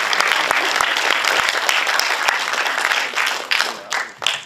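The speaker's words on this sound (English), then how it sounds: "Yeah, let's give a clap." An audience at a live comedy Q&A claps warmly in a dense, sustained burst of applause that thins out toward the end, with a little crowd murmur underneath.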